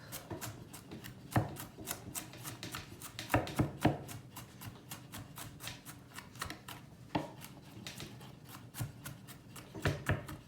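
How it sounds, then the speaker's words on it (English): Knife chopping crushed ingredients on a cutting board while preparing an eggplant dish, a steady run of close, crisp taps with a few louder strikes, alone without talk. "it's good that you just chop them a little bit like this"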